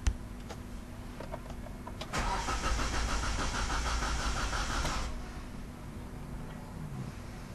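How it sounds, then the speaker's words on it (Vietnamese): A 2011 Hyundai Avante's starter cranks the engine without it catching, a close, steady whirring grind lasting about three seconds after a few clicks, then dropping away to a quiet hum. "Tôi sẽ tiến hành đề máy thử xem như thế nào."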